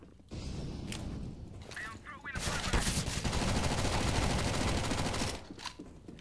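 Rapid gunfire in Counter-Strike: Global Offensive on the Italy map, a few sharp shots then a long sustained burst of automatic fire, loud and close, tapering near the end.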